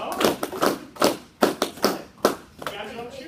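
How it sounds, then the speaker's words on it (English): Rhythmic cheerleader-style claps with cupped hands from an audience, sharp hollow bursts in an uneven group beat, loud and close with voices chattering underneath. "Let's start clapping."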